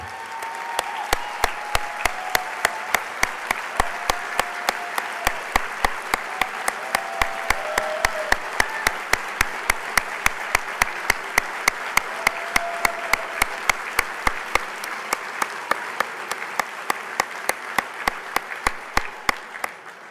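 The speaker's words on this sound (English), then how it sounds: "Liz and Derek, would you mind standing for a quick round of applause?" Banquet audience applauding its founders, sustained clapping with a dense steady rhythm and a few brief vocal sounds over it, lasting about twenty seconds.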